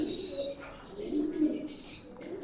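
A racing pigeon coos softly in a few low, throaty pulses, close by, with faint chirps from other birds in the background and no talking.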